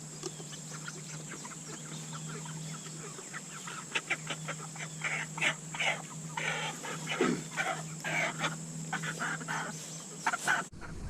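Cornish Cross chickens raised free range, including a rooster, cluck repeatedly in short irregular bursts close by, over a steady background hum.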